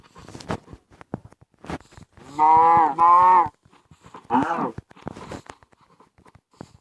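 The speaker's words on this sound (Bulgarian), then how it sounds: "Бягай, кравке!" A cow in the mobile survival game Minecraft PE gives two sustained lowing moos close together, then a shorter one, amid clicking game sounds and brief bursts of speech.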